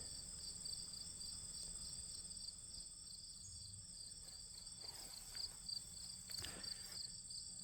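Steady, high-pitched cricket chirping fills the air in a continuous pulsing drone, with a few faint rustles and distant sounds underneath.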